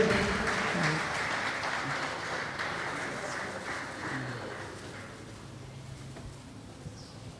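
A crowd at a Pan-African literature prize launch ceremony claps steadily for several seconds, a dense patter of applause that slowly fades toward the end.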